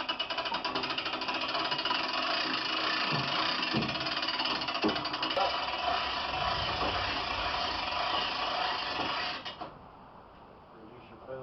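An E-Z Kwiklift hoist lifts a piece of equipment into an attic, its motor droning loud and steady with mechanical knocking for about nine seconds before cutting off abruptly.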